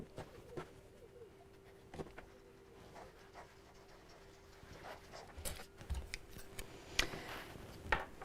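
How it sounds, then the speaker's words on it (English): Scissors snip through fabric pieces for a cosmetic bag, sparse sharp cuts at first and then a busier run of crisp snips and rustling near the end, close and clear over a low steady hum. "And then we'll cut these out."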